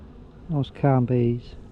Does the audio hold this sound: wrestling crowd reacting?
no